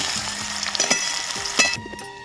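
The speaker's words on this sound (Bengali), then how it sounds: "খেচুয়ে দেওয়ার জন্য সমস্ত আনাজগুলো হালকা করে ভেজে নেব" Potatoes and mixed vegetables fry in oil for khichuri with a soft, close sizzle, broken by a few light clinks and scrapes of stirring.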